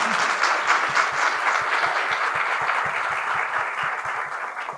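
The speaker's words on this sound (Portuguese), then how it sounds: "Palmas para o Stefano." An audience at a literary event applauds the novelist Stefano Volp. The clapping is steady and fairly loud, with a faint series of low thumps running through it.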